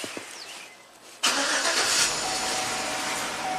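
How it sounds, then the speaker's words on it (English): A 2011 Chevrolet Silverado with a stall and no-start fault cranks after a second of near silence; the engine bursts in abruptly and carries on as a loud, steady, close roar to the end. "Let's crank it, see what happens."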